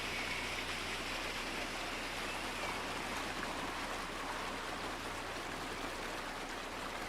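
Waterfall behind a tree in a wooded spot, heard as a steady, even rush of falling water that holds at a constant level throughout, with no voices.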